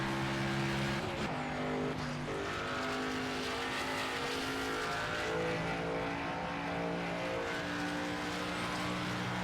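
Race car engine from the NASCAR 25 video game at the Martinsville track, a loud continuous droning roar with shifting pitch as the car revs and changes gear, steady throughout with no voices.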